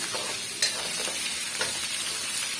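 Red and green chillies frying in a pan for chutney, stirred continuously with a busy crackling sizzle and occasional sharp scrapes of the spatula, close and fairly loud throughout.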